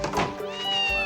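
A cat meows in the YS Eternal Story video game, one drawn-out, rising-and-falling cry heard up close over faint game music, with no voices.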